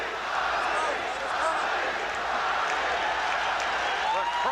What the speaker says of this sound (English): The crowd is chanting Ali, Ali